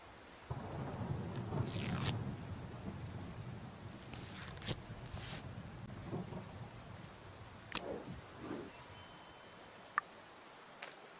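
Rain falling steadily with low rumbling thunder in a mystery adventure game, heavier in the first seconds and then easing, with a few sharp isolated clicks and a brief crack near the end.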